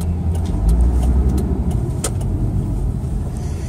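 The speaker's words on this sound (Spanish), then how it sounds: "qué complicado este tráfico." Car engines idling and creeping in congested road traffic on the Los Chorros highway, a steady low rumble throughout with a slight swell near the start and no talking.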